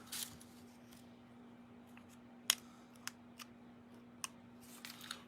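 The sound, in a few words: scissors cutting paper streamers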